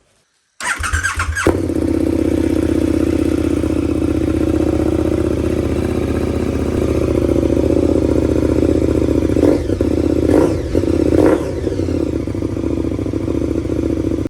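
A KTM motorcycle with a short exhaust starts and idles loudly with a harsh, raspy exhaust, then gets several short sharp revs near the end.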